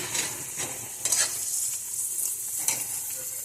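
Two chillies sizzle in hot oil in a pan for fried rice, a steady bright frying hiss broken by repeated scraping stirs, close and fairly loud with no talking.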